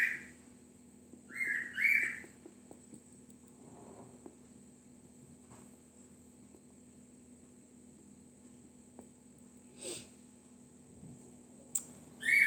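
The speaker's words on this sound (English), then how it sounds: "Love the sounds of birds." A pet bird whistles and chirps in a few short, bright bursts near the start, then sparse faint peeps and clicks over a quiet room hum.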